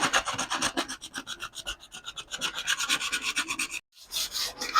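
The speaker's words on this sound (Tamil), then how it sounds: "ஸோ இதை எம்ப்ரி பேப்பரை வச்சு நம்ம க்ளீன் பண்ணிடலாம் கொஞ்சம்." Emery paper rubs across an old teak wooden table in quick, rhythmic back-and-forth strokes, close and scratchy, with a brief pause near the end before sanding resumes.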